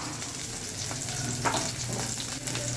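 Green chilies and onion frying in a pan on the stove, a continuous soft sizzle with faint stirring scrapes, close but fairly quiet, no talking.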